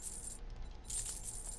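Coins clink in a short metallic jingle from a sale in the survival video game 7 Days to Die, a faint burst with a brief gap before a second shimmer, no talk.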